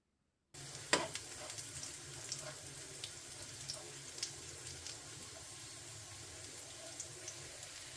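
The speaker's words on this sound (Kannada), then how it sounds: "ನೋಡಿ ಇದೀಗ ಫ್ರೈ ಆಗ್ತಾಯಿದೆ" Raw banana slices fry in a pan, a steady close sizzle that starts abruptly and carries on throughout, dotted with small pops and crackles.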